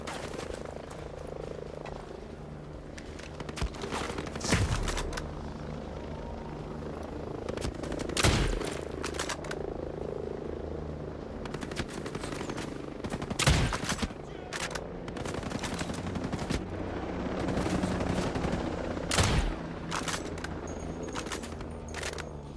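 Bursts of rifle fire aimed at an enemy helicopter in the tactical shooter Ghost Recon Breakpoint, several loud shots and volleys spaced across the stretch over a steady rotor drone and outdoor ambience, with no talk.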